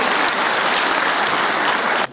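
Dense, steady applause from an audience at a university award ceremony, loud and even throughout, then cutting off abruptly at the end.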